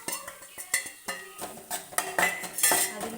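A metal spoon scrapes and clinks against a pan in irregular strokes while fenugreek seeds and spices are stirred, close and fairly quiet.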